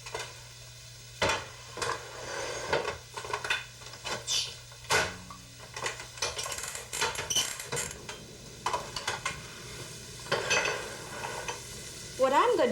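Cranberries and spices cook in a pan for an Indian cranberry chutney, with a soft sizzle under repeated scraping and stirring clatter from a utensil against the pan, and a low steady hum in the background.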